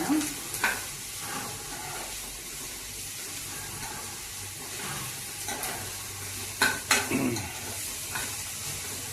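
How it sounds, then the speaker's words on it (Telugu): Onions and green chillies fry in a pan with a steady sizzle, broken by a few sharp stirring scrapes and clinks of a utensil against the pan, heard close and without talk. "ఇది ఉల్లిపాయలండి ఏగితేనే బాగుంటాయి"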